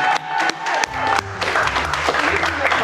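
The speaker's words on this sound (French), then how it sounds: "On peut applaudir l'équipe de Chris qui vient de remporter cette manche" An audience applauds a winning team at a YouTube team competition show, with the clapping rising in bursts alongside loud musical hits and speech over the top.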